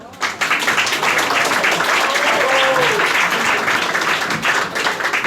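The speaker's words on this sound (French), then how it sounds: "qu'on peut déjà applaudir avec toute son équipe" An audience applauds an award recipient and his team at a Paris ceremony, a sudden full burst of clapping that holds steady and close, with a faint voice or whistle briefly audible through it.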